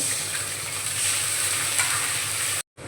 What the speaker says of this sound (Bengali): রসুনটাকে ভেজে নেব